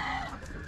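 A rooster giving a short cluck, one brief close call at low level.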